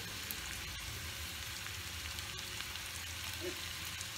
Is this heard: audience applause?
no